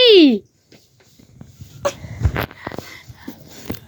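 A single loud, harsh cough bursts out at the very start, then quieter talking and background noises follow.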